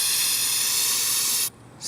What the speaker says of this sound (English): You're going to spray it for like 3 to 5 seconds and spray it twice.